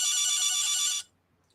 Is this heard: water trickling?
no